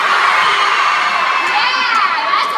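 A live audience of children shouts together on a count of three, a loud, high, sustained group scream with cheering and whoops rising through it.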